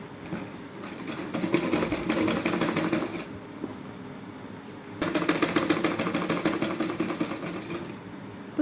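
A sewing machine stitches a palazzo in two steady runs of rapid, even needle clatter, close and fairly loud, separated by a brief quieter pause.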